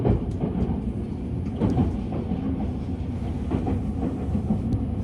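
A limited express train rumbles steadily along the rails at low speed on the Osaka Higashi Line, with a soft rhythmic clatter of wheels heard from inside the carriage.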